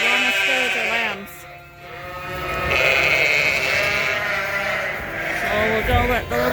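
Dorset ewes bleat loudly and close by as they stay with their lambs on a sheep farm, giving long wavering calls one after another with a short break in the middle.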